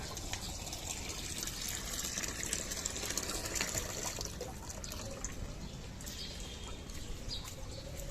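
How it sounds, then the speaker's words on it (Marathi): Tap water running steadily into containers at home, a continuous splashing fill with faint background sounds throughout. "नळाचं पाणी लवकर जातं नऊ वाजता म्हणून मी पाणी भरते"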